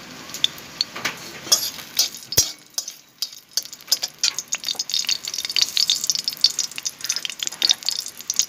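Dried red chilies crackle and sizzle in hot oil in a wok, a dense spray of small pops and spits with an occasional sharper click, steady and close throughout.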